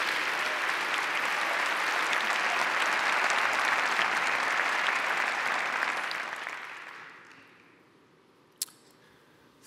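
Audience at a New York City State of the City address breaks into sustained, loud applause that fades out after about six seconds, leaving a quiet hall with a single sharp clack near the end.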